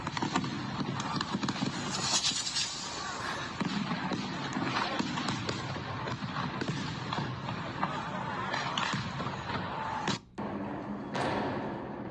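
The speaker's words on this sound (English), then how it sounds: "You just hear explosions everywhere." Chaotic outdoor din in a large city with repeated sharp bangs and explosions scattered throughout, crackling over a constant roar of crowd noise.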